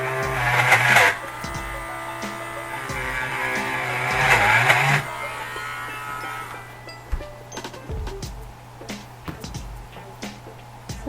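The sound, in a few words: Dremel rotary tool carving a Blythe doll's nose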